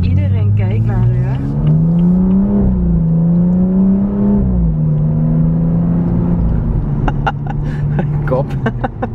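Steady engine drone and road noise from a tall car driving on the road at about 70. A voice talks loudly over it throughout, close to the microphone.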